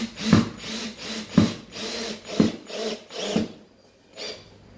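A screw is driven with a power driver into timber for a sauna bench, pulling its head down into the wood in four or five short, close whirring bursts with brief pauses between them.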